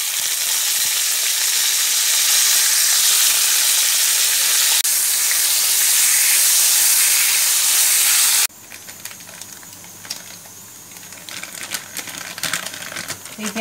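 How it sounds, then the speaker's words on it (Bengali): Potatoes dropped into a wok of hot oil, a steady loud sizzle and crackle of frying that runs without talk, then drops sharply to a quieter, patchier spatter with scattered pops. "তো আলু ভাজা করব, তার জন্য তেল গরম করে নিয়েছি"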